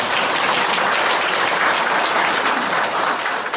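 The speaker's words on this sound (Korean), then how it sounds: "한 박수 한번 쳐주세요" An audience at a Korean CEO lecture forum in Gumi breaks into full, steady applause, a dense roar of many hands clapping continuously and loudly throughout with no talking over it.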